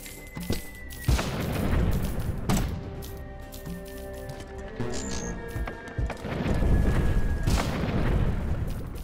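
Cannons fire in the artillery game Cannon Brawl as a dense barrage of booming blasts and crashing impacts, loud and continuous across the whole stretch, with no talk over it.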